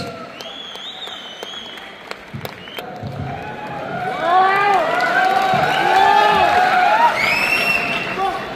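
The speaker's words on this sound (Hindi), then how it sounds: "उमेश पाल सर के लिए भाई जोरदार तालियां" Applause and cheering from an audience welcoming a guest onto a stage, swelling from scattered clapping into a loud, sustained roar mixed with shouts and music, with a voice speaking over the start.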